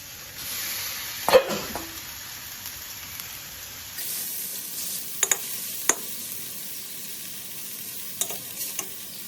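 Squid being stir-fried in a pan for a Thai spicy seafood dish, with a steady low sizzle and a few sharp utensil scrapes and taps against the pan, fairly close.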